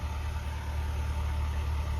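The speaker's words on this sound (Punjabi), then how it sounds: "ਸਾਡੇ ਤਾਂ ਜਨਰੇਟਰ ਲਾਇਆ ਵਾ ਸਵੇਰ ਦਾ ਚੱਲਦਾ 6 ਵਜੇ ਦਾ" A generator set up to run farm equipment from early morning hums steadily with a low, constant engine drone and vibration, close and unbroken, with no talk.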